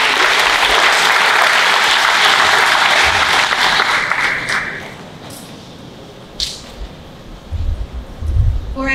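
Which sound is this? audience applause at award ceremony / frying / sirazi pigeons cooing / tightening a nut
audience applause at award ceremony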